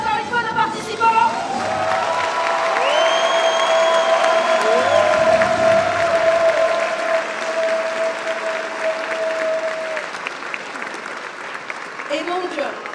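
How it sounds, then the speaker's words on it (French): Crowd at a Nintendo cosplay contest applauds the participants, sustained clapping mixed with scattered cheers and chatter, while a long whistle-like tone and some voices sound through it. "On applaudit encore une fois nos participants."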